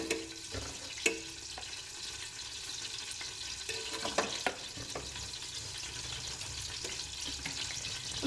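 Oil and ghee heating in a cocotte for chorba frik, a faint low sizzle with scattered light clinks and knocks, fairly quiet and without speech.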